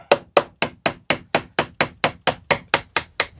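Hammer blows on wood during construction of a CLC Passagemaker dinghy's dagger board trunk: about twelve sharp, evenly spaced strikes, loud and close, with no talking.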